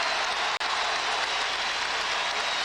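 A basketball arena crowd applauds at a 2001 Lakers vs. Magic game after a foul call, a dense and sustained wash of clapping that cuts out for an instant and then resumes.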